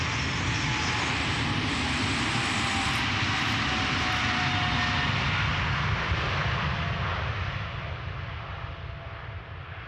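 An eight-year-old KLM Boeing 777-300ER departing Amsterdam Schiphol produces a loud, close, continuous jet-engine roar that holds steady before easing slightly as it moves off.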